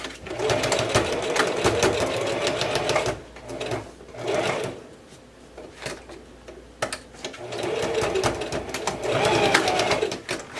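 A sewing machine top-stitches a circle blouse in fast rattling bursts. The needle runs steadily, pauses twice for a few seconds, then starts again loud and close.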